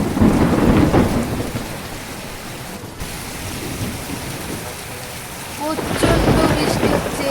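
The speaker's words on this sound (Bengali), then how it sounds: "এখন রাত্রি বারোটা বাজছে আর এত পরিমাণে ঝড় বৃষ্টি শুরু হয়েছে" Heavy rain pours during a midnight thunderstorm, with loud low thunder rumbling at the start and again near the end over a constant dense hiss of rainfall, no talk.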